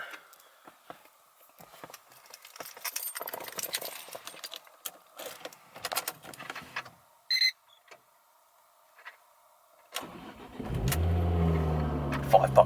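A Ford car engine starts early in the morning: keys and scattered clunks first, a short chirp, then the engine catches and settles into a loud, rumbling idle at the end.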